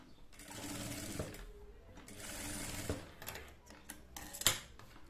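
A sewing machine stitches a plain salwar in steady running bursts, with short pauses between seams and a sharp mechanical clack near the end.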